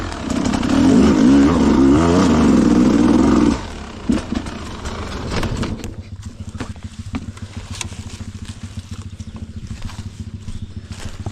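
Enduro motorcycle on a dirt trail revs loudly close by with a warbling, rising engine note for several seconds, then drops off to a lower idle mixed with scattered clicks and knocks.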